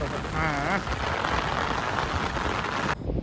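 Steady rain pours down outdoors in a dense, continuous hiss, loud and close, with a brief tonal whine early on before the sound cuts off near the end.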